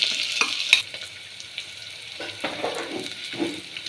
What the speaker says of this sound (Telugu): ఉల్లిపాయలు బ్రౌన్ కలర్ వచ్చేలా వేగాలి